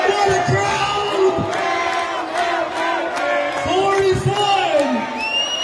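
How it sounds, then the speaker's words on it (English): A basketball arena crowd in the last minutes of a game roars loudly and continuously with scattered whoops, while a commentator speaks over the noise. "What a crowd."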